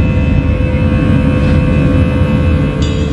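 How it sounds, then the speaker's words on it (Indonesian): Steady, dense low rumble of an airliner cabin with engine drone, continuous and fairly loud throughout, with no voices over it. "Berada di pesawat."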